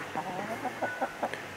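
Brahma hen clucking softly in a farmyard poultry pen, a series of short, soft clucks spread across a couple of seconds over faint background noise.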